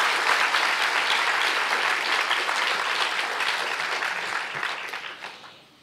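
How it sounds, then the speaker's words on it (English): An audience at a public policy school anniversary dialogue bursts into full, close applause that stays strong, then thins and tapers away at the end. "So a special round of applause and appreciation for Mr."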